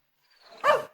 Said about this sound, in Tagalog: At tataulan ti aso iti arubaya.